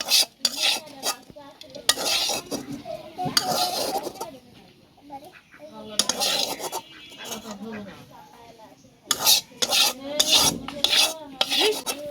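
Bitter gourd stir-fried in a pan: bursts of spatula scraping and rasping against the metal over a light sizzle, with quieter stretches where a voice is heard between the bouts of stirring.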